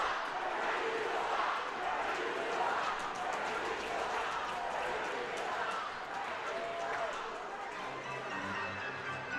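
Hockey crowd in an arena jeering the officials, a sustained loud wash of booing and shouting voices, with an announcer talking over it.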